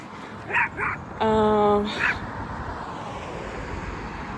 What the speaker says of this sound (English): oh wow, this is such a little dog, so cute.